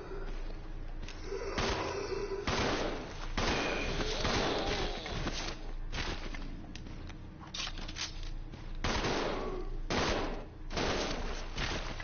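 Rapid bursts of gunfire from Resident Evil 0 HD on hard mode, loud and dense, with repeated volleys and brief gaps across the whole stretch, no talk over it.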